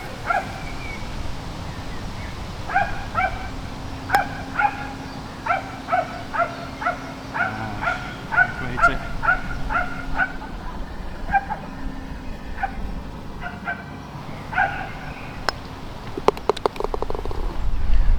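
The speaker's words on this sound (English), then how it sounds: "The dog's very excited too about that." An excited dog barks on a parkland golf course at Redditch Golf Club, giving a string of quick, fairly close yaps in uneven bursts over steady outdoor background noise.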